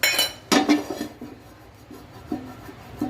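A knife clinks and scrapes against a nonstick pan while spreading oil for neer dosa, with a couple of sharp metallic clinks at the start and soft tapping scrapes afterward, close and fairly quiet, with no talking.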